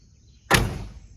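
A single solid thud of a 1966 Oldsmobile Toronado rear door shutting at about half a second, close by, followed by a short fading rumble, with quiet background before it.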